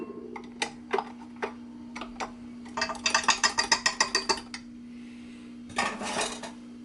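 A whisk being pulled from a mixing bowl of banana bread batter: sharp metallic clinks and taps, first scattered, then a quick rapid run of rattling knocks, a pause, and a final burst of clatter, close and clear.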